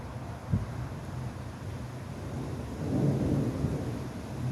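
Thunder from a summer storm, a sharp near crack early on, then a long low rumble swelling and rolling on under wind noise, with no speech.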